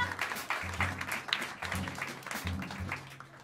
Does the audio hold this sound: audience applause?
yes